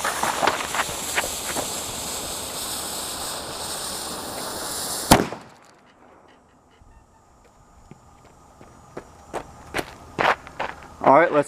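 A model artillery cannon fires a steel ball in one loud blast about midway, preceded by a sustained roaring hiss and followed by quieter sharp knocks and clicks.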